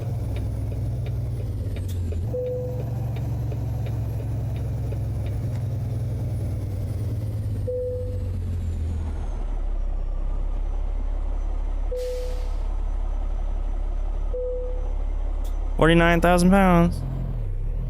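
A truck in American Truck Simulator, driving in Washington State, pulls in slowly with a steady low engine rumble that drops in pitch partway through, while someone talks over it.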